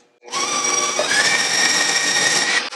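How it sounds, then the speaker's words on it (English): Electric mixer running steadily at close range, blending cream cheese with crushed pineapple for a sweet holiday cheese ball; a continuous loud whirring hum that starts abruptly and holds for over two seconds with no talk. "now we're going to blend in the cream cheese"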